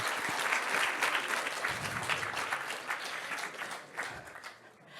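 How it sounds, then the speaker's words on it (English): Steady audience applause greets a participant who has just shared her ambition, a dense wash of many hands clapping at moderate volume for the full five seconds and tapering slightly near the end. "please give a round of applause"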